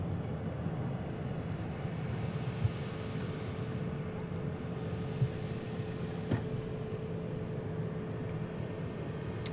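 An American Airlines jet taking off at DFW airport, a steady, far-off engine roar and hum that holds level throughout with a few faint ticks and no talking.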